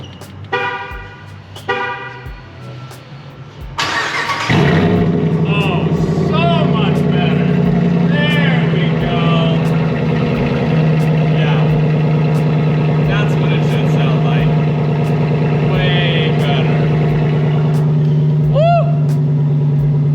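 A car fitted with a Borla Attack exhaust cranks and fires on its first startup after a brief starter whir, then settles into a loud, steady rumble with occasional blips of revving, close and dominant throughout.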